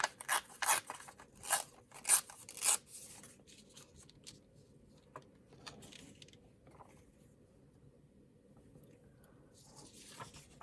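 Patterned paper torn by hand into a piece for the top of a window envelope tag, several short sharp close rips in a burst, then quieter faint rustling handling of the paper.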